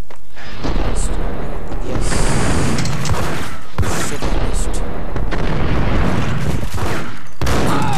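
Loud bursts of gunfire and booming shots in the video game Max Payne, rapid volleys close and dense, with a voice talking over parts of the action.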